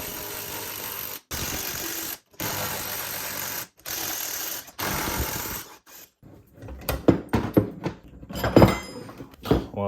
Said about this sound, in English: now I'm going to loosen up the spring compressor so I can remove everything.